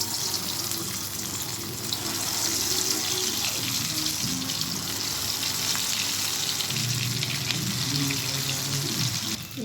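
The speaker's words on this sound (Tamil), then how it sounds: "எண்ணெய் காய்ஞ்ச பிறகு இந்த 65 ஒன்று ஒன்றா போடலாம்." Egg 65 pieces frying in hot oil in a kadai, giving a steady, dense sizzle and crackle that runs continuously throughout at close range, with no talking.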